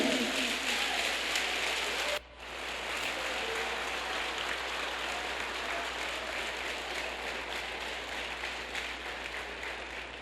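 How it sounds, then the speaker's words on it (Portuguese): Church congregation applauding during a sermon, a dense, steady wash of many hands clapping that briefly drops out then continues loud and sustained, with no voices over it. "Diga aleluia e dê um aplauso a Ele esta noite."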